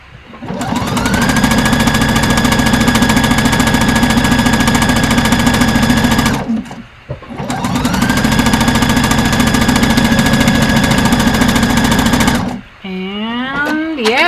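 Sewing machine stitching fabric in two long continuous runs of rapid, even mechanical chatter, loud and close, separated by a short pause, with a brief voice speaking at the end.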